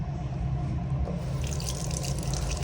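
Water runs steadily from a tap in a restroom, a continuous close hiss and splash with faint dripping texture and no talking.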